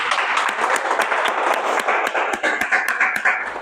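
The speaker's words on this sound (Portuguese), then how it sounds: "Uma salva de palmas para ela." A live audience at a talk on anxiety and procrastination claps loudly and close by, a dense run of individual hand claps with sharp separate smacks standing out, gaining a little rhythm toward the end.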